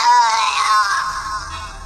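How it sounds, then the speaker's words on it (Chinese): A woman's desperate, heart-rending scream rising from the bottom of a crevice, used as an audiobook effect: one drawn-out, strained cry that wavers and slowly fades, loud and close at first. "那是一声带着一种难以言喻的绝望还有撕心裂肺的叫喊"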